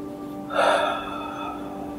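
One person draws a single audible breath in through the nose during a short guided stress-relief meditation, a brief soft inhale in an otherwise quiet room.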